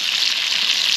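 Steady, close running water gushes without pause while a piece of ginger is rinsed under it.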